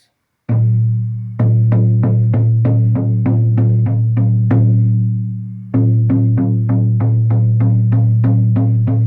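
An 18-inch buffalo hide hand drum struck in a steady, even beat, each deep resonant boom ringing out, with a brief pause partway before the beating resumes.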